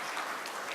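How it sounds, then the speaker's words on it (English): Audience applause for a conference panel at an Africa investment event, a brief steady wash of clapping heard from within the hall at moderate level, with no voices over it. "let's give our wonderful panel a round of applause"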